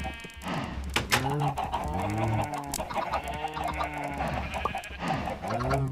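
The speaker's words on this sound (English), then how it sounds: "Yeah, dumb chickens." Video game chickens in Minecraft cluck and squawk continuously in a busy, overlapping chorus, close and steady throughout, with a few higher crowing-like calls mixed in.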